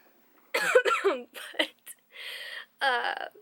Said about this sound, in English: I'm still coughing, as you can see